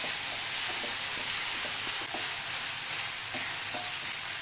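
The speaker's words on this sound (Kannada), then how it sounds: "ಮುಚ್ಚಳ ತೆಗೆದು ಸ್ವಲ್ಪ ಚೆನ್ನಾಗಿ ಮಿಕ್ಸ್ ಮಾಡ್ಕೊಳ್ಳೋಣ" Tomatoes fry in a pan for a sweet-sour fenugreek leaf gravy, sizzling steadily while a spoon stirs and scrapes in short repeated strokes, close and fairly loud.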